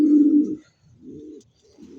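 Domestic pigeons kept at a village home in Bangladesh coo close by in three low, throaty phrases, the first loudest and longest, with short pauses between and no talk.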